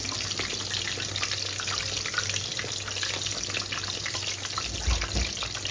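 Chicken burger patty frying in a pan, a steady dense crackling sizzle that runs throughout at moderate loudness with a low hum underneath and no voices.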